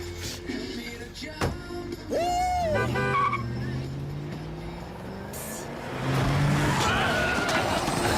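A car in an animated series skids with failed brakes, a drawn-out tire squeal rising loud over engine noise, followed by a rough, continuing roar.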